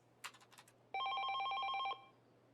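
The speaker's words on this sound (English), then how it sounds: "the ringing phone broke his train of thoughts" A telephone rings in the video game 428: Shibuya Scramble, heard as a single bright electronic trill lasting about a second, set after a few quick tapping clicks in a quiet room.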